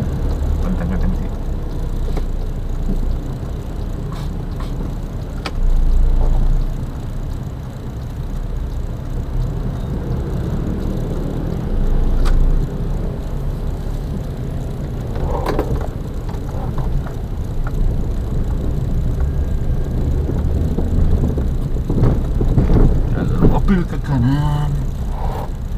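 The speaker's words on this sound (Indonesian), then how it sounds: "Dari utara banyak kendaraan yang kenceng-kenceng sih." Fast cars and motorbikes stream past on a street beside the Selokan Mataram canal in Yogyakarta, a steady loud roar with engines swelling as vehicles pass close, and a voice talking over the traffic.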